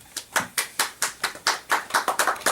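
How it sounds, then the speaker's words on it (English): Audience clapping after a speech: a run of distinct, fairly regular hand claps, close and clear, speeding up slightly toward the end with no talking. "Good clap."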